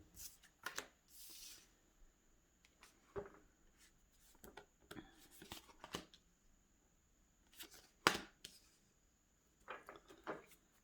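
A Radiant Wise Spirit tarot deck is shuffled by hand in close, quiet bursts of riffling and sliding cards, with a few sharper taps and pauses between them.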